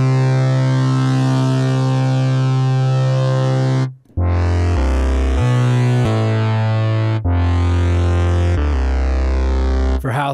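Synth bass built in Ableton Live from an Operator and Drift instrument rack, a thick sustained buzzy tone that cuts out briefly, then steps through several bass notes with a sweeping filter, loud and alone.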